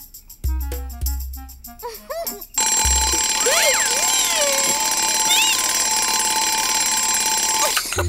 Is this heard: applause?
no